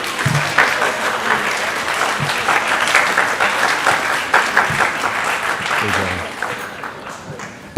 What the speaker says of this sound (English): It's okay to applaud for that.